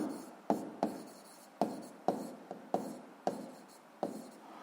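A pen or chalk writes out a physics formula for friction force, producing a run of short scratching strokes, each starting with a sharp tap and fading, repeated steadily and close by.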